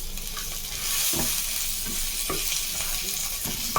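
Garlic and ginger sizzle steadily in hot oil for a spicy crab masala. A spoon stirs through them in a few soft scraping strokes, close and continuous with no talking.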